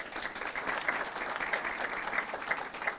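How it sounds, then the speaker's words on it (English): Applause at a city council meeting honoring a records clerk: dense, steady clapping from the chamber audience fills the whole stretch at even loudness, with no talking over it. "help me in giving Records Clerk Ovando another big round of applause for her accomplishments."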